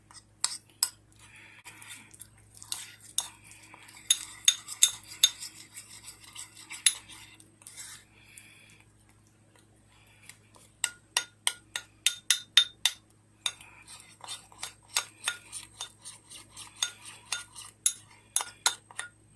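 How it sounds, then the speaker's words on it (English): A metal spoon clinks and scrapes repeatedly against a bowl of microwaved chocolate as it melts, in quick irregular taps, with a brief quieter pause in the middle. "I'm just going to keep stirring it until it's all melted."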